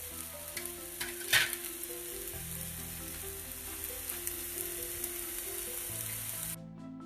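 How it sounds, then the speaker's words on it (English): Akki rotti, a rice flour flatbread, frying in a pan, giving a steady, quiet sizzle with a brief clatter of a spatula early on, alone without talk, cutting off near the end. "Let it fry properly on both the sides. Now let's flip this to the other side."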